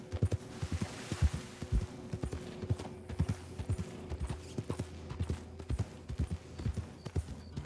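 Hooves of a ridden horse in the video game Red Dead Redemption 2 thud in a steady, rhythmic clip-clop at a moderate distance over a faint musical background.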